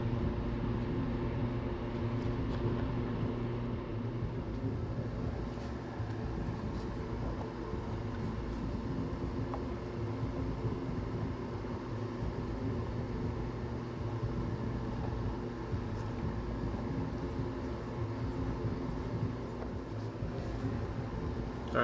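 Fan blows air steadily to clear chemical fumes, a faint constant whooshing hum that stays even throughout with no voices.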